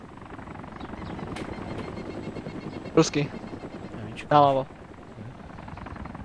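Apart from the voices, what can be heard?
helicopter flying in the video game DayZ Mod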